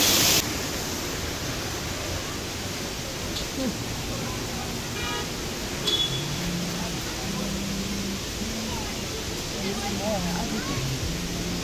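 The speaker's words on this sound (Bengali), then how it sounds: "আর একটা এখানে ঝর্ণা" A waterfall in the Darjeeling rock garden pours as a steady, dense broadband rush that fills the whole scene, with faint talk and brief tones above it.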